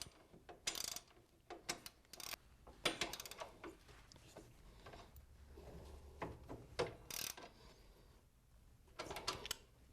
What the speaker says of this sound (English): All that's left to do is tighten up the nut.